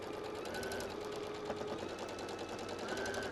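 A sewing machine stitches a fabric knitting tool caddy, its needle running in a steady, quiet mechanical whir with a faint rhythmic patter, close by and alone.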